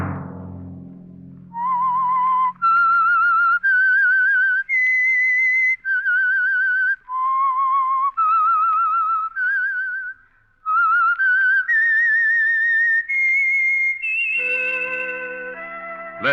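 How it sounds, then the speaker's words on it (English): A melodic whistled theme from the old radio drama The Whistler: a solo whistle rising and falling through a series of clear held notes, ending with a brief orchestral chord. "Let that whistle be your signal for the Signal Oil program, The Whistler"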